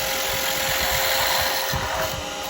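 A carbide tool cutting wood on a lathe while turning a Christmas tree, giving a steady, continuous whirring scrape with the spinning motor underneath, fairly close and even throughout.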